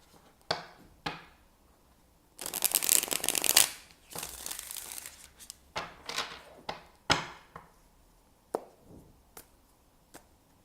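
Tarot cards being shuffled and handled at close range: two longer riffling bursts, scattered with sharp single card taps and slaps, are followed by quieter pauses.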